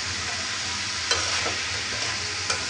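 Vegetables for noodles, carrot, potato, peas and cabbage, hiss steadily in a hot pan, with a few light scraping stirs of the spatula breaking the sizzle, close and alone without talk.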